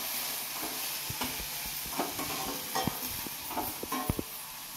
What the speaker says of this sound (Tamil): சில்வர் பாத்திரத்தில் இது பண்ணுறப்ப அந்த சவுண்டு ஒரு மாதிரி இருக்கு